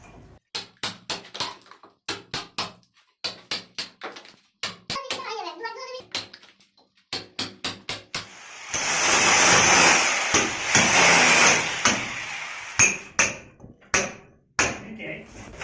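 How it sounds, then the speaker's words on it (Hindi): Hammer blows on a chisel chip a wiring groove into a house wall, sounding as quick bursts of sharp metallic taps with short pauses, plus a long stretch of harsher grinding scrape in the middle. "तो जब तक नहीं आता है तब तक हम छीनी हथौड़े से झिरी को हटाते हैं।"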